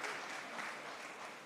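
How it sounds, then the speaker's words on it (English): Brief burst of audience applause at a Jerusalem Post conference, dense steady clapping with no voices over it. "Applause for Let's Do Something."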